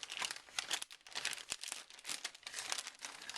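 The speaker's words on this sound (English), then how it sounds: "So let's go ahead and just cut that away, open it up." Packaging on a box holding a 250-size YKS Enzo250 FPV quadcopter frame is cut and pulled open, giving close, continuous crinkling and crackling with a few sharp tearing snaps, and no talk.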